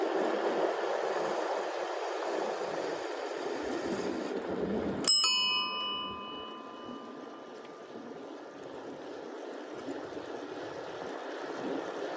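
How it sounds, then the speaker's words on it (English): A Dutch ding-dong bicycle bell, bought in Amsterdam, rings once sharply on a bike ride through Cades Cove in the Great Smoky Mountains, its bright tones ringing out and fading slowly over steady outdoor wind and road noise. "that bell is a Dutch ding-dong bell I bought in Amsterdam"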